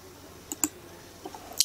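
A few crisp computer mouse clicks close up, in two small groups separated by a pause, with nothing else heard.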